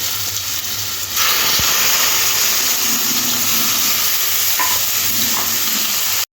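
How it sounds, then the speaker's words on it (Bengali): Marinated chicken pieces go into hot white oil in a kadai and start to fry, a steady sizzle with stirring that swells after the first second and holds loud and close to the end. "এরপরে ম্যারিনেট করা চিকেনের টুকরোগুলো তেলের মধ্যে দিয়ে দেবো"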